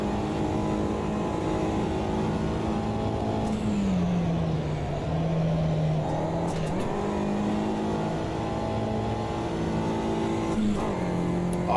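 A short-wheelbase race car in the Automobilista 2 racing game screams through its revs, the engine note climbing and dropping through several quick gear shifts, loud and continuous.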